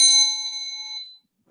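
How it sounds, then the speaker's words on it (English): A soft timer bell during a mindfulness art session, one clear bright ding that rings and fades smoothly over about a second, alone in silence. "you'll hear a soft bell. It will sound like this."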